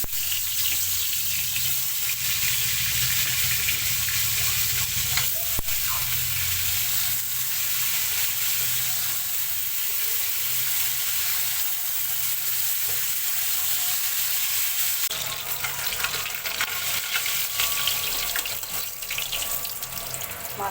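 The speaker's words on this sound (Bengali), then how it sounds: "মাছটা ভেজে তুলে নিলাম।" Fish rubbed with turmeric and salt frying in oil in a kadai, a steady dense hiss of sizzling that runs unbroken and fairly loud throughout, with no talking.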